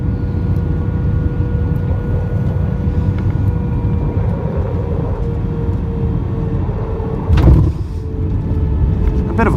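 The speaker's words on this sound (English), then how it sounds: "A bit of a hard touchdown, but still good." A British Airways Airbus A320-232 touches down hard on landing at London Heathrow, a steady loud cabin rumble with one brief heavier thump near the end.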